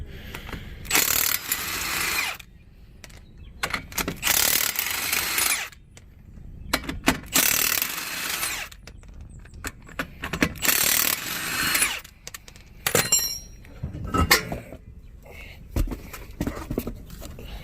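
A Milwaukee impact wrench fitted with a 21mm socket works on a tight lug nut during a wheel change, giving several loud, bursty rattling runs separated by short pauses, with clicks and clanks of tools and metal between bursts.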